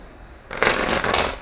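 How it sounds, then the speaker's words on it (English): A deck of tarot cards is shuffled close by. There is a quiet start, then a steady crisp riffle and flutter of cards with nobody speaking. "And then I shuffle them."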